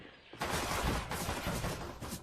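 Rapid gunfire from the video game CS:GO bursts in suddenly and continues as a dense, loud stream of overlapping shots with sharp repeated peaks, without speech.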